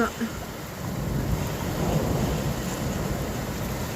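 Thunder rumbles low and broad through a heavy rainstorm in Wales, a continuous deep roll mixed with the steady wash of pouring rain.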